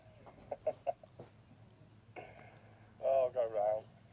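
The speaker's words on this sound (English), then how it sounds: "it looks like we've got an attack of the wild Canadian geese here" Wild Canada geese honk in a few short calls early on, then a louder cluster of harsh, wavering honks near the end, heard close by outdoors with some faint talk in between.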